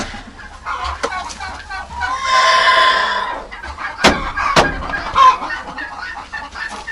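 A broody hen clucks and squawks loudly as she is lifted off her eggs by the legs, with agitated bursts of cackling, sharp wing flaps and a person speaking softly nearby.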